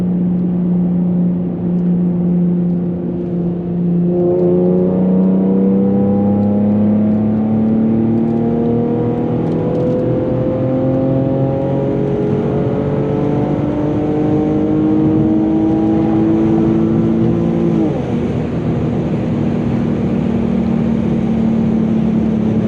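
Infiniti G37 with a loud exhaust pulling hard in fourth gear at night: a deep, close engine drone climbing steadily in pitch for most of the stretch, then briefly dipping and settling, loud and continuous with no talk.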